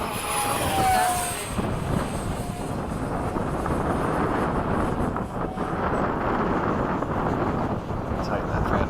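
An FMS 70mm F/A-18 RC jet with an electric ducted fan buzzing at a flying field, a steady mid-level whir with a brief rising whine near the start.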